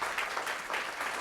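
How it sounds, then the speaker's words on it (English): A crowd at a mayor and city council candidates forum applauds the candidates, a short, dense burst of many hands clapping together in a hall. "a round of applause for all of our candidates represented here tonight"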